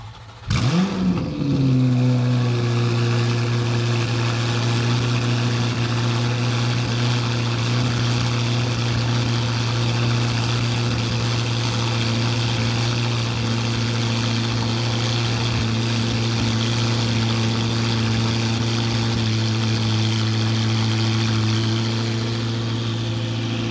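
Cold start of a Corvette C8 ZR1 fitted with a Soul Performance competition exhaust: a sharp crank and roaring flare, then a loud, steady high idle that drones on for over twenty seconds up close.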